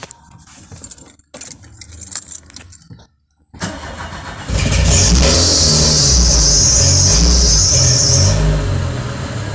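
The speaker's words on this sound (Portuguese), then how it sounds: "Vamos encerrar o vídeo aqui com o som do Golfão" A Volkswagen Golf engine cranks and fires up, settling into a loud, steady running rumble after a few seconds of quieter handling noises and clinking that sound like keys.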